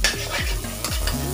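Close-up sizzle of margarine frying in a pan, broken by several scraping strokes of a utensil stirring the contents.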